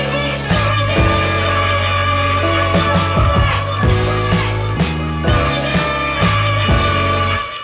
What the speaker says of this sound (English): Sax, trumpet, and trombone